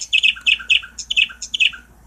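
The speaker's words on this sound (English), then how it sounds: "Birds are chirping, everything seems to be okay, the sun's out" Several birds chirp outdoors on a sunny day, quick bright tweets in repeated bursts of two or three notes, fairly close and clear with no talking.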